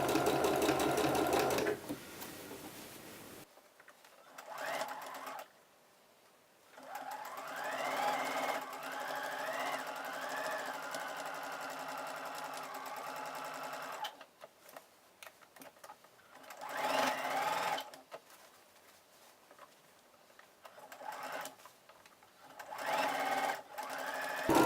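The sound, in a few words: sewing machine stitching a reversible A-line dress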